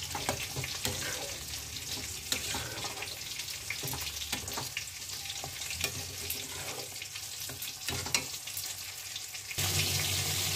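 Lentils and radish greens in a pot, just topped up with water and stirred up from the bottom, give a continuous wet sizzle with scraping stir strokes and a brief splash of added water near the end.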